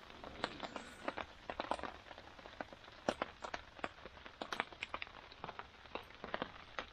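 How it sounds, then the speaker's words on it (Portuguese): Rain at a wild campsite: scattered, crisp drops ticking and pattering on a nearby surface in an irregular rhythm, fairly faint, with no talking. "Ver se dá uma maneirada na chuva."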